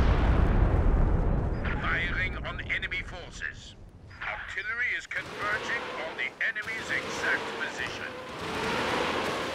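Howitzer artillery barrage in a World War II strategy game, with Ostheer and OKW forces on the field: deep booming blasts and rumbling explosions layered with whistling shells, under someone talking.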